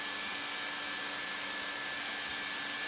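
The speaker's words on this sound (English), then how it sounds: "Run the welding machine evenly across the joint at a speed of approximately 2 meters per minute." A hot air welding machine is run along a roofing membrane seam, giving off a steady, loud blowing hiss with a constant whine. It stays unchanged throughout and no one speaks.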